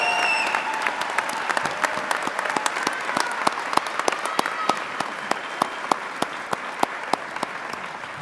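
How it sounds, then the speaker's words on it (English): Audience applause for graduating firefighter paramedics at a fire department pinning ceremony, steady sustained clapping with sharp individual claps standing out, moderately distant in a large room. "how about another round of applause for the firefighter paramedics of class of 38"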